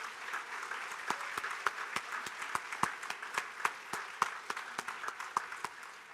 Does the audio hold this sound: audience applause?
yes